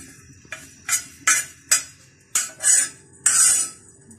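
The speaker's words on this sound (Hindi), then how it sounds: "गर्म तवे के ऊपर हम ये अजवाइन, जीरा और साबुत धनिया डालेंगे और इसको फ्राई कर लेंगे।" Carom seeds, cumin and whole coriander being dry-roasted on a hot griddle, a series of about seven short bursts of rattling, scraping stirs with metallic clinks, close and distinct, no talk.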